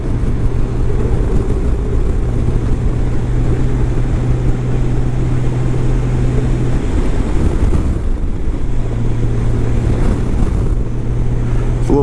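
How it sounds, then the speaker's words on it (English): Strong wind buffets an outdoor microphone on a warm, breezy day, a steady low roaring rush across the whole stretch, with a faint low hum in the background and no speech. "It's a little windy today"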